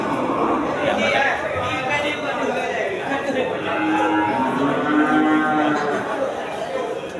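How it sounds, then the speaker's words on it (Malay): Water buffalo low repeatedly at a busy livestock market, drawn-out moans rising over a constant crowd murmur and nearby chatter. "Ya, semarak pasar kerbau."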